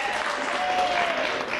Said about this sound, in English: Sorry, Vito, not as much applause as Michelle Morgan.